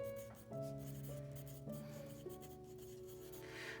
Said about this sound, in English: so I'm going to write down frightened.